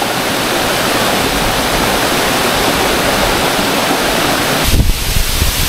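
Dibulo Falls, a tall waterfall in Dinapigue, Isabela, roars as a dense, steady wash of falling water throughout, loud and close, with a brief heavier surge near the end.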